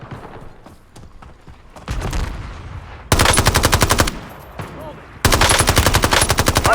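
Call of Duty Warzone battle royale gunfire, two long loud bursts of rapid automatic shots from a close weapon, preceded by scattered quieter shots and movement, with brief in-game voice callouts.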